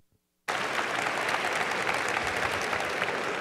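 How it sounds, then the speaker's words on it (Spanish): Lecture audience breaking into sudden, loud applause after a short silence, steady dense clapping from a large crowd that carries on without letup. "Un aplauso, un aplauso."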